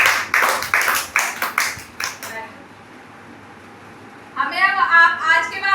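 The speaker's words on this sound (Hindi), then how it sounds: "ताली बजाओ।" Children clap their hands in a quick, uneven run of about ten sharp claps over two seconds in a classroom activity session. A pause of near silence follows, then young voices begin speaking.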